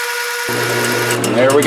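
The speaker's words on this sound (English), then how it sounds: "I'm going to run the drill bit in without moving the part" A drill bit on a lathe bores into a brass bushing for a VW relay shaft, the loud steady machine whine starting abruptly and running on while someone speaks briefly.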